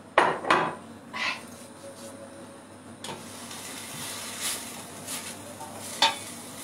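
Onions frying in a pan while cooking Turkish bulgur köfte, with a few sharp metallic clanks of a utensil against the pan at the start, then a soft steady sizzle and occasional scraping stirs.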